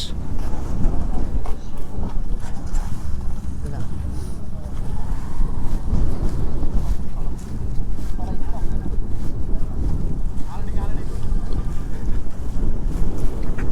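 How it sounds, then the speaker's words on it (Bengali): Strong wind gusts across the Adinath jetty at Maheshkhali, where boats are moored on the channel to Cox's Bazar. Loud, continuous rumbling buffeting batters the microphone throughout with a few brief lulls. "বিশাল বাতাস।"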